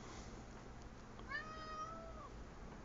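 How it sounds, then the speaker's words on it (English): A house cat gives a single drawn-out meow, faint and slightly distant, over a steady background hiss. "my cat decides he wants to get in on the action"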